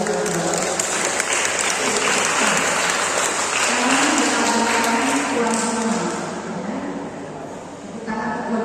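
Audience applause at a Dhamma talk held at a Buddhist venue, a steady wash of many hands clapping throughout, with a voice talking over it near the middle.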